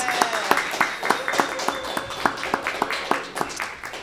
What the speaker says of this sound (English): One more round of applause for all the presenters